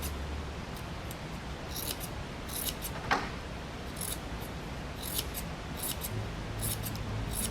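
Scissors snipping paper to make hair for a journaling craft, a quiet series of brief irregular cuts over steady background hiss.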